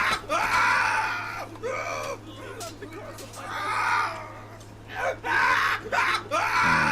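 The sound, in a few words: man screaming in pain in video game Half Sword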